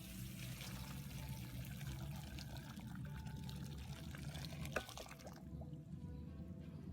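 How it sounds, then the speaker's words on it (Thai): Boiling soup stock pouring into a pot of fish being made into a salty braised carp dish, a steady close liquid pour with trickling that ends sharply near the finish, with no talking. "แล้วเราก็เอาน้ำซุปที่เดือดแล้วนะครับใส่ครับ"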